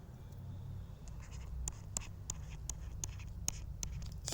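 A marker scrapes across a lecture-hall board while a word is written, giving a series of short, sharp squeaky strokes over a low room hum.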